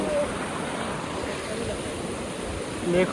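A cold mountain river rushing over rocks at Sittong in North Bengal, a steady dense roar of flowing water, close and continuous, with faint voices in the background.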